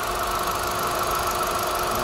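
A 2013 Kia Morning with a manual gearbox and 1.25-litre petrol engine runs steadily at idle with the air conditioning on, a constant close mechanical hum and whir without pause.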